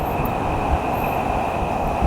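A train rolling through a tight, crowded town street, a loud, steady rumble with a sustained high metallic whine above it, close by and continuous.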